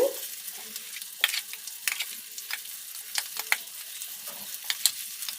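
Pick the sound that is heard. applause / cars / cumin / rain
cumin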